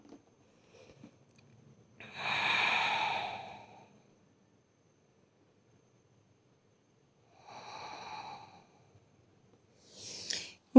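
Slow breaths during a yoga child's pose, a long soft exhale followed after a pause by a shorter, fainter one, then a brief sharper intake, close and quiet with no talking.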